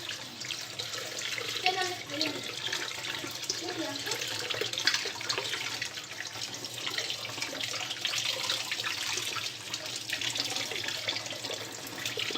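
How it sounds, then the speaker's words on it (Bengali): Tap water runs steadily over chhena (fresh curd cheese) in a strainer as it is rinsed to remove the vinegar smell. The splashing is continuous and fairly quiet, with faint speech in the background. "এবারে একে ভালো করে আমি ধুয়ে নিব যাতে ভিনাগারের গন্ধটা না থাকে"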